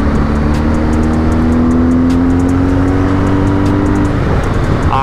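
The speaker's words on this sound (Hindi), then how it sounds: "स्टॉक एग्जॉस्ट ने मचाया हुआ है पागलपन जीएस के।" A BMW R 1250 GS motorcycle with its stock exhaust revs hard and climbs in pitch, loud and close, its engine note rising steadily before easing off near the end, with no talking.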